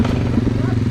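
A GasGas EC300 two-stroke enduro motorcycle engine runs steadily at close range with a continuous low, throbbing drone and no breaks.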